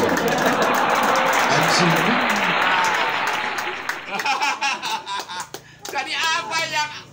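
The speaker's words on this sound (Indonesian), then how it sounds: "Tepuk tangan." Audience applause at a live art exhibition gathering, a dense burst of clapping filling the first four seconds, then fading as a presenter's voice speaks over scattered laughter and chatter.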